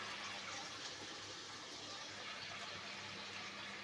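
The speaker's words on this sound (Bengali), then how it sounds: "এর জন্য দিয়ে দিলাম সামান্য গরম জল।" Hot water poured into a pan of ground spices while cooking a layer chicken curry with papaya and potato, giving a steady, even rushing hiss with no breaks and no voices.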